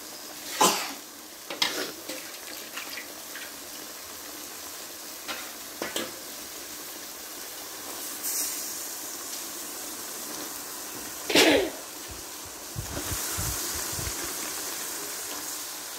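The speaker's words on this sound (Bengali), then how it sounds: "এই যে কষানো হচ্ছে, কষানোর পরে ঝোল দিয়ে দেওয়া হবে" Ginger, garlic and cumin paste with spices sautéing in a pan on a village stove, a steady soft sizzle with scattered louder scraping stirs and clinks, close by, faint throughout and no talk.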